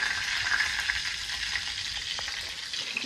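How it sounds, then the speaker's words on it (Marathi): Fish fries in oil laid on a banana leaf, giving a continuous close crackling sizzle that stays steady and fairly loud throughout, with a faint tap near the end and no talk. "मासं फ्राय करायला चालू केले आता. आता केलीचे पानावर टाकले फ्राय करत."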